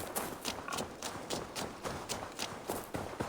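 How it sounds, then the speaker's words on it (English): Horse hooves clip-clop in a steady, even rhythm in Assassin's Creed Valhalla, a close series of crisp, moderately loud hoofbeats heard alone without talk. "That is a bright white horse."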